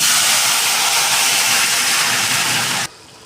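Spice tempering hits hot oil for a vegetable khichuri, a loud, dense, close-up sizzling hiss that holds steady for about three seconds before cutting off abruptly.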